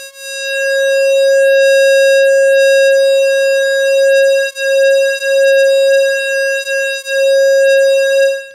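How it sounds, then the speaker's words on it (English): An ARP Odyssey synthesizer oscillator with slight sample-and-hold modulation holds a loud, steady buzzy tone that wavers and drifts a little in pitch, with a few brief dips in level, no voices. "And you get a characteristic sort of drifty oscillator sound."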